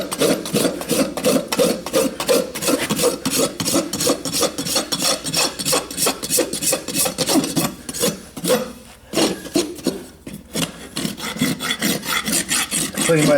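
A farrier rasps the leftover pad off a horse's hoof in quick, even strokes, scraping steadily and close up, with a short break partway through before the rhythm picks up again.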